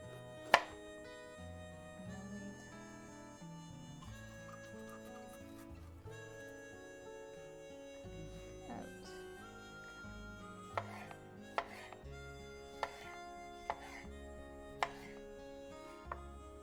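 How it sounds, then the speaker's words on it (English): A knife chops a vegetable into little squares on a board; a run of sharp, evenly spaced taps is heard near the end, faint beneath steady background music. "Just cutting like little squares."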